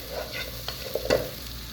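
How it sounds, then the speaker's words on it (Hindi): Bhindi (okra) frying in oil for a dhaba-style bhindi masala. A soft, steady sizzle runs underneath a few light stirring clinks and scrapes, close by and brief. "अच्छी तरह मैं इसको फ्राई करूँगी"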